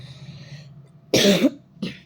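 A single sharp cough up close, followed by a shorter second cough, with a low murmur before it.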